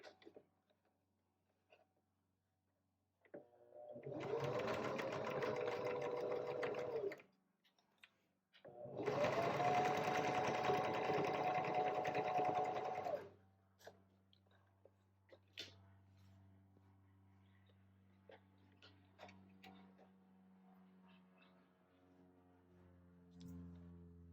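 A sewing machine stitches a short, simple quilt seam while piecing a tree quilt. It runs in two loud, steady bursts of about four seconds each, then falls quiet except for faint clicks and handling noises.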